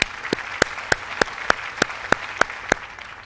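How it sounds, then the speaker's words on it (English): Graduation ceremony audience for the class of 2021 gives sharp, evenly spaced claps about three per second, crisp and fairly close over a soft background wash. "Let's give a big round of applause for our class of 2021."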